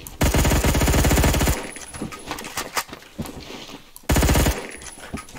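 A video-game gun loaded with armor-piercing rounds fires in loud, rapid automatic bursts, a long burst at the start and a shorter one near the end, with scattered single shots and impacts in between.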